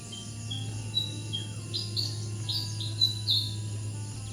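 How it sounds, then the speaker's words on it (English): Several birds chirp and whistle in short bursts over a steady, continuous drone of crickets in the background. "Listen to all the birds."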